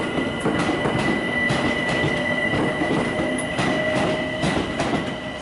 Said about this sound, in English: London Overground service to Stratford.